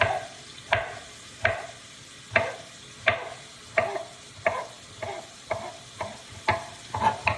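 Italian sausage fries in a pot, with a soft sizzle under a series of distinct spoon scrapes and stirs repeating at a regular pace, close and clear.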